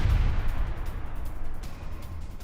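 Explosions from Israeli airstrikes on central Gaza at night, heard as a continuous deep rumbling roar with muffled booming bursts, fairly distant and sustained with no voices.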